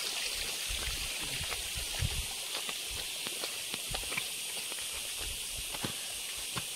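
Water rushing steadily in a village stream swollen by heavy rain that washed away fields, a continuous broad hiss with scattered small splashes and clicks.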